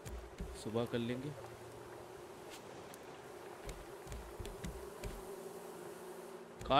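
Flies buzz in the survival video game Raft, a faint, thin drone that hovers over quiet ambience, with a brief voice-like burst near the start and a louder moment at the very end.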